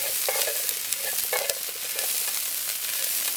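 Sweet corn, scallion, onion, thyme and Scotch bonnet pepper being stirred in a hot pot, a steady sizzle of frying with repeated scraping strokes of the spoon, close and without talk.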